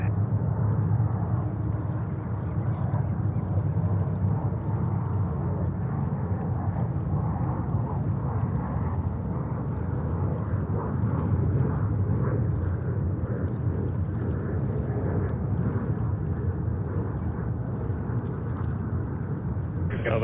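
An Iberia Airbus A350-900 jet at JFK airport gives off a steady, even roar that holds at a moderate distance for the whole stretch.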